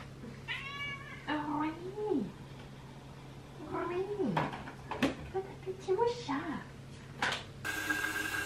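A pet cat meows several times in a drawn-out, pitch-bending way at close range, with a voice talking around the calls in a home.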